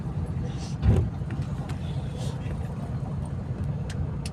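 A Victory Liner bus engine, formerly an LBS unit, runs with a steady low rumble throughout, swelling briefly near the start, with faint voices in the background.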